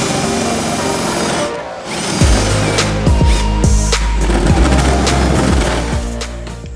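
A power tool cuts holes in the lower board of a motorhome build, a loud sustained buzzing whine with repeated bursts of drilling and clattering.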